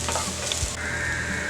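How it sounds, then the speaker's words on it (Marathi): Egg Schezwan rice with spring onion greens stir-fried in a pan: continuous loud sizzling hiss with scraping and stirring noises throughout the short stretch. "जवळजवळ 1 मिनिट आता हे परतवून घेऊया।"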